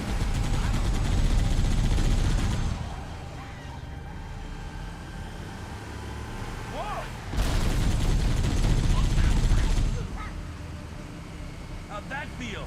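Halo video game gunfire against Covenant enemies: dense rattling volleys of rapid shots in two loud bursts, separated by a quieter stretch with scattered effects, with voices mixed in.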